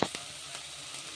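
Chopped onion and vegetables for jowar rava kichidi fry in a pan with a soft, steady sizzle, opening with a short clink from a utensil, quiet and close.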